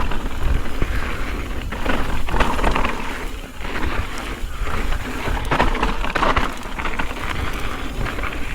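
Steady rain hits a rider during a motorcycle ride in stormy winter weather, a dense, loud wash of patter and wind noise that runs without break throughout.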